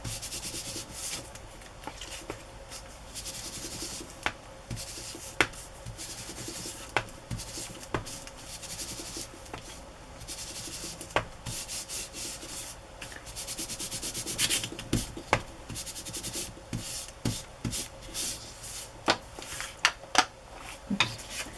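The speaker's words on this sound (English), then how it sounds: "I love how just rubbing ink over it makes that pop, that embossed image just pop." Ink rubbed over embossed journal paper, a soft continuous scratchy rubbing close by, broken by sharp taps and clicks scattered throughout, no talk.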